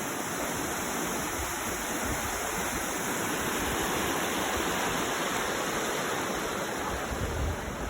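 Rushing floodwater pours under a bridge after a storm, a loud, dense, unbroken roar heard close up from the bridge deck with no talking.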